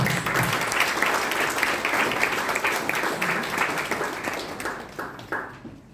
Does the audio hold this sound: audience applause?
yes